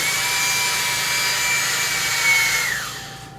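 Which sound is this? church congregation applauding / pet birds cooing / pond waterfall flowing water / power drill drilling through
power drill drilling through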